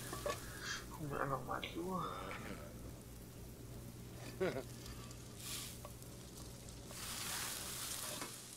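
Food sizzling in a frying pan in a kitchen in The Sims 4, a steady frying hiss running beneath German speech, with a few brief louder bursts.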